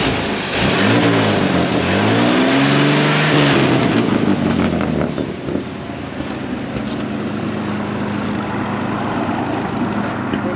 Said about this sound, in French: Donc ça c'est le bruit typique des 6 cylindres, avec ce qu'on appelle des glass packs.